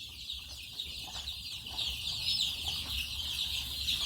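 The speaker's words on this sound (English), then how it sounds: "these are day-old chicks that have just been hatched from the nesting boxes which I've just been showing you" Nearly four hundred day-old chicks peep constantly in a dense high chorus inside a brooder, steady and close, with a low rumble underneath.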